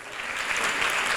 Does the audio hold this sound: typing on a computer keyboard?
no